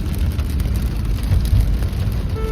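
Steady monsoon rain drums on a car roof and road, a dense low rumble with constant hiss, no voices.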